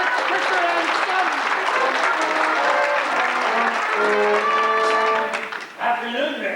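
Warm audience applause in a theatre during a staging of Edwin Drood, dense sustained clapping filling the room, with voices and tonal sounds emerging over it before it dies away near the end.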